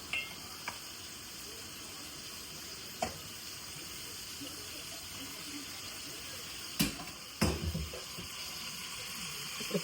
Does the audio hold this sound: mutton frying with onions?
yes